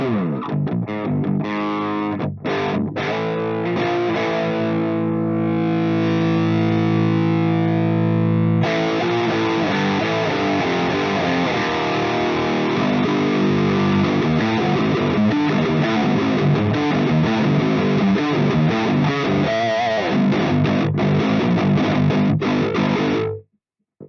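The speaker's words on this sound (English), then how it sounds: "Let's first dial in a quick distortion sound with the Orange Dark Terror." Electric guitar played through an Orange Dark Terror amplifier with gain turned up gives a thick, loud distorted tone, moving through sustained chords and choppy riffs for over twenty seconds without any talking.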